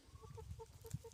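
A hen on a farm homestead gives a few soft, quick clucks in a short, close, quiet burst.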